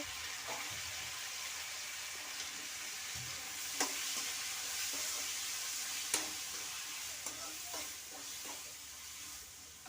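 Chopped tomatoes sizzle steadily in a hot pan for a bitter gourd dish, with a constant frying hiss and a few sharp clinks of stirring, close and without talk.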